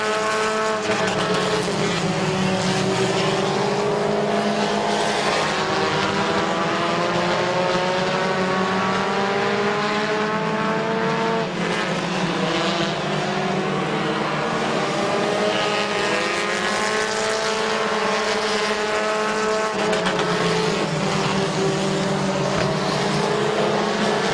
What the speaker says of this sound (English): 11 laps in, 4 laps to go for Lawson, Clark, Nige, and Frederick.